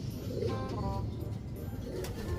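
Soft, low pigeon coos repeat against a steady background hum, with a few faint higher chirps mixed in.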